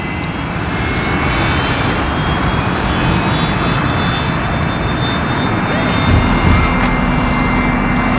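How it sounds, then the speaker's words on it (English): A loud, steady airplane engine roar from aircraft near the Las Vegas airport fills the air, a continuous broad rumble with a faint regular ticking over it and no pauses. "It's a little loud because the engines from that airplane that run across the street from the airport"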